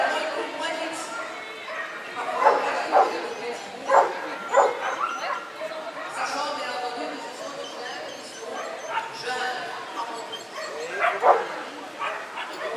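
A dog barks in repeated bursts during protection training with a jute bite sleeve, the barks and yips close and loud over continuous talk.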